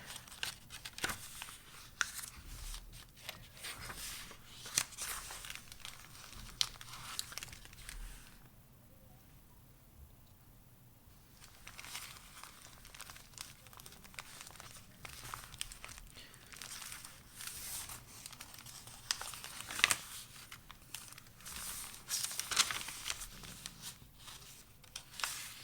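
Vintage blue paper crinkles and rustles as journal pages are flipped, soft close handling in an irregular papery pattern with a brief quieter pause midway.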